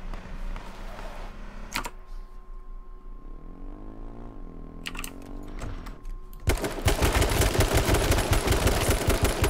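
Rapid machine-gun bursts crackle in an H1Z1 match, first as scattered sharp shots, then as a dense, loud, continuous volley of close gunfire in the final seconds.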